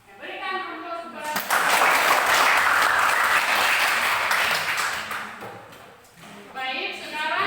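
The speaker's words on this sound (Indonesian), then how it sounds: "Berikan aplaus kepada" A classroom group gets a burst of applause after finishing a presentation during teaching practice, loud sustained clapping from many hands swelling then fading, with voices speaking before and after it.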